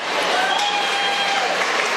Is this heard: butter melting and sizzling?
no